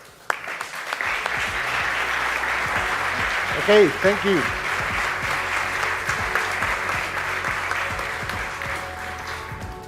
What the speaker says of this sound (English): So please give it a round of applause for the SBOW iFlex.